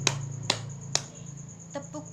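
In a third-grade Indonesian classroom, three crisp, evenly spaced hand claps ring out, followed by two softer ones, over a faint steady hum.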